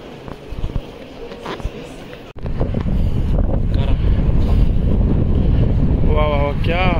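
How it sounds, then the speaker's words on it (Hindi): Strong wind blowing outdoors in Jeddah, Saudi Arabia, a steady loud rush buffeting the microphone, with people talking over it. "वाह वाह वाह, क्या हवा चल रही है जद्दे में"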